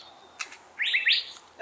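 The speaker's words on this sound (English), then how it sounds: "That bird." Two quick bright bird chirps in a side yard farm garden in Phoenix, Arizona, close and clear against quiet outdoor background, with faint knocks before and after.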